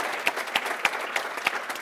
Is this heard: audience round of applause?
yes